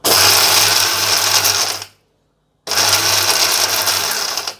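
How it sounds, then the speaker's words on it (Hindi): A kitchen mixer grinder grinds whole spices for garam masala on its low setting, running loudly in two harsh bursts of about two seconds each, separated by a short silent pause, with no talking. "आइए अब हम पीसना स्टार्ट करते हैं।"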